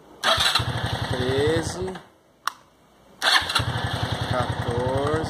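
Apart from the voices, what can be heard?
motorcycle engine cranking and starting with recovered battery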